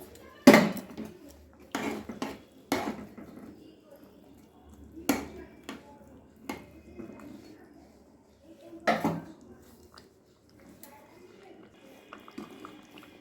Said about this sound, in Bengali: এবারে আমি মাছগুলো দিয়ে দিলাম।